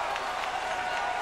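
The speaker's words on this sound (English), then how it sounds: "His longtime teammate Patrick Ewing applauding Starks" A basketball arena crowd applauds John Starks' pull-up jumper during a 1998 Knicks–Heat playoff game, a dense, steady wash of clapping and crowd noise without pause.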